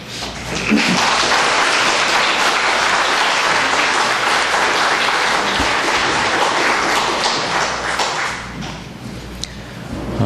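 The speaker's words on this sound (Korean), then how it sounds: "그래도 나오실 때 우리 박수로 환영하도록 하겠습니다" Sustained applause from a church congregation welcoming a preacher to the pulpit, dense and steady clapping that fills the room for about ten seconds before tapering slightly at the end.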